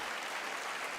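Audience applause during a State of the Union address, a steady dense wash of clapping from a large crowd with no talk over it.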